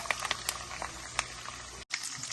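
Cashew nuts and curry leaves fry in hot oil in a pan, giving a steady close crackle and sizzle with small pops throughout and one brief break near the end.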